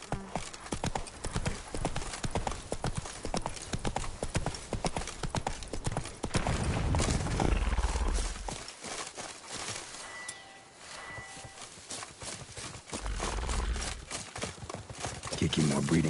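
Roach the horse trotting in The Witcher 3 on PS5, a steady rhythmic clip-clop of hooves running through the whole stretch, with game music and a voice over it at times.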